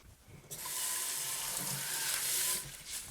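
Water hitting a hot stone mortar after toasted spices are tipped in, bursting into a loud, hissing sizzle after a quiet start, then holding steady before easing off near the end.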